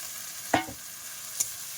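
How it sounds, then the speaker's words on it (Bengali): Fish being stir-fried in a spice masala with bay leaves, a spatula scraping the pan twice in quick strokes over a low, steady sizzle. "মশলাটা কিন্তু খুব সুন্দর করে কষাই করে নিচ্ছি"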